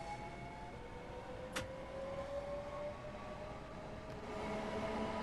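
A Class 465 electric train runs in the video game Train Sim World 2, a faint steady rolling hum with whining motor tones and a brief sharp click, no voices.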